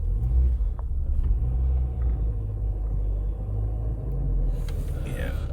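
A Mini Convertible rolls backward in reverse gear with a clutch that tends to stick and judder, its engine giving a steady low rumble and drone throughout, close and continuous, with no talking.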